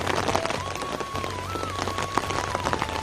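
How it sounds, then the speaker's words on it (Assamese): Steady rain patters on a surface, with a faint continuous tone running underneath. "আকৌ ষ্টাৰ্ট হৈ গ'ল বৰষুণ"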